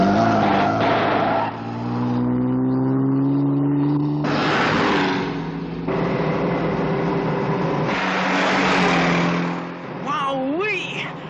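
A cartoon car races with its supercharger engaged, loud engine revving in rising and falling bursts with tire squeals and a sliding whine near the end, while voices talk over it.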